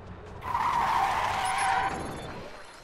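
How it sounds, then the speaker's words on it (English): In the Watch Dogs video game, a car skids into a crash: a loud, sustained tire squeal with engine roar swells, holds for over a second, then fades into a rumbling tail. No one speaks. "Well, we just experienced a car accident."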